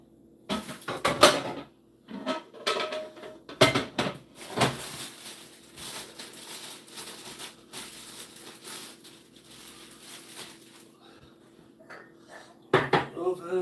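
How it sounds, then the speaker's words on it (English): A large pan is pulled out of a cupboard in a small home kitchen, with bursts of clattering metal, knocks and cupboard or drawer bangs scattered over several seconds, loud and close. "I'll get myself a large pan out."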